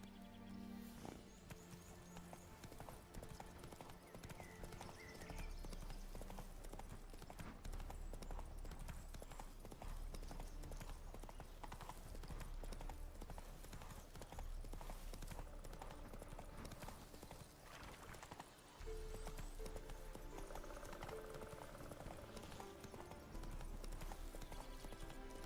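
Hooves of Roach, the horse in The Witcher 3 video game, clip-clop in a quick, continuous galloping rhythm for the whole stretch, close and prominent over faint in-game background sound.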